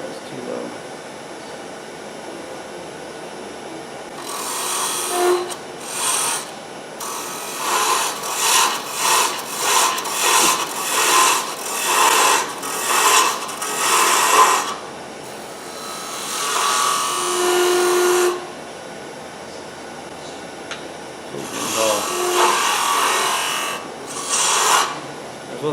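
A dull woodturning tool cuts wood spinning on a lathe while tops are turned. It gives loud, close, rasping scrapes in rhythmic bursts, separated by short pauses.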